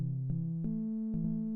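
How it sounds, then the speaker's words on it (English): A MicroMonsta synth playing a resonant saw phase-distortion waveform with no wave shaping: a dark, steady sustained tone with a few brief note changes, heard alone. "it sounds like this when you haven't applied any wave shaping"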